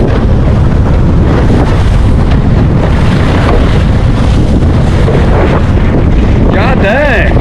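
Strong wind buffets a small fishing boat at sea off Stanage Bay, a loud, constant roar of gusts and wind noise on the microphone over splashing water, with no break throughout.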